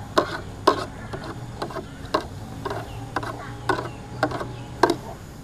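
Urea fertilizer being stirred into water in a container, heard as a series of about a dozen sharp scraping knocks at an irregular steady pace, close and moderately loud over a faint background hum.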